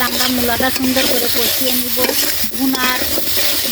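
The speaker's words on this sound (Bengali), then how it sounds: "এবার আমরা মূলাটা সুন্দর করে কষিয়ে নিব" Radish stir-fried with spices in a pan, a steady sizzle broken by repeated scraping strokes of a spatula stirring close by.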